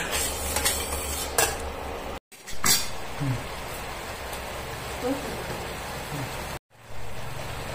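Cashews, cardamom and whole cumin frying in a pan, soft sizzling with occasional utensil clinks and scrapes, broken by two brief silent gaps, with a voice speaking softly in between.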